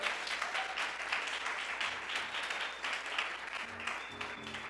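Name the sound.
congregation applauding in church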